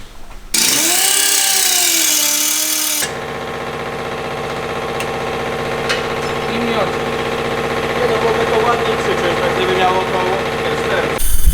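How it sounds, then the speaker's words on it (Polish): An angle grinder cuts away the top of a car part cover on a Lexus: a loud, harsh burst of grinding, then a steady, droning whine with a ringing tone that holds to the end. "Po długotrwałym boju ze szlifierką, gdzieś 40 minut szlifowania."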